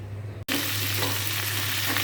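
Radhuni seeds hit hot oil as the tempering for a cauliflower curry, bursting into a loud, dense sizzle after a brief quieter moment, close and continuous.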